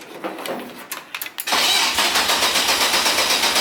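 An E36 drift car engine, battery charge uncertain, cranks in a few uneven bursts, then catches and settles into a loud, steady running rumble.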